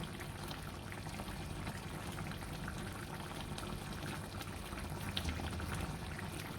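Egusi melon-seed lumps simmer in a pot of water for soup, giving a faint, steady bubbling and crackle of boiling liquid with no voices.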